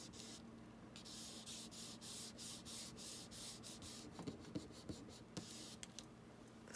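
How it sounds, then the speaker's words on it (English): Quiet, steady rubbing of newspaper pressed onto wet acrylic paint, with soft scratchy strokes and a few light taps near the end, no speech. "So just take some wording and lay it right on the acrylic paint here. I'm just going to make sure I'm going to rub it on there."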